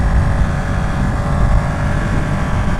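A Ducati V2 motorcycle engine drones steadily while riding, a loud, close, continuous rumble with wind noise and no pauses.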